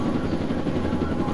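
A steady, continuous video game helicopter rotor drone fills the scene, dense and loud with no pauses.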